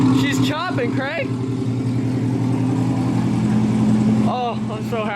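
A C7 Corvette with new headers, X-pipe exhaust and a tune rumbles loudly up close with a deep, choppy exhaust note, while excited voices talk over it at the beginning and near the end.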